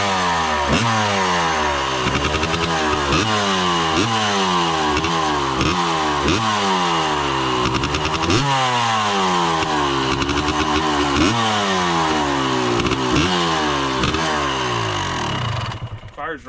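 Two-stroke engine of an old Honda CR250 dirt bike, loud and close, buzzing and revving in rapid repeated blips that rise and fall in pitch, sustained throughout before cutting off at the end.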